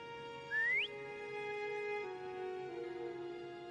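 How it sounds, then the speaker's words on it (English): A player character whistles in the video game Wuthering Waves: one short upward-gliding whistle heard clearly over steady in-game background music. "Try whistling."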